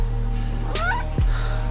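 A pet cat meows, a couple of short drawn-out calls rising and falling in pitch, close and fairly clear over a low steady background hum.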